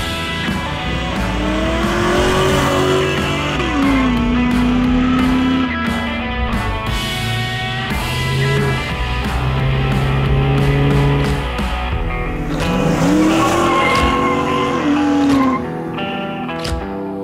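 A Chevrolet Monte Carlo with an LS engine swap drives past, its engine note rising and falling in pitch as it approaches and recedes, loud and continuous with music-like tonal harmonics and no talk.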